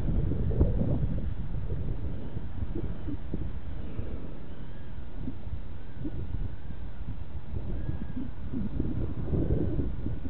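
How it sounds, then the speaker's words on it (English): Strong gusty wind buffets the microphone continuously during an FPV drone flight at Oak Point Park, a steady low rumble with rustling surges and a faint whine of drone motors, no talking. "Oh, and it is really windy."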